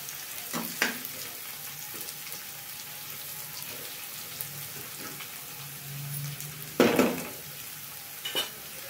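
Okra (bhindi) pieces fry in a pan with a low, steady sizzle, broken by a few sharp scrapes of stirring.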